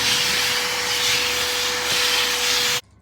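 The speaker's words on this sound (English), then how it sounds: "we got the shop vac. I think that's going to handle this a lot better." A shop vac roars loud and close as it sucks up water from a flooded camper floor, a steady rushing whine that cuts off abruptly near the end.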